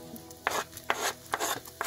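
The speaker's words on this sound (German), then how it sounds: "Als erstes haben wir nun Öl in einer Pfanne erhitzt und da kommen jetzt unsere Zwiebeln" Chopped onions and garlic go into hot oil in a pan, giving scraping and sizzling bursts at regular intervals over a steady frying hiss.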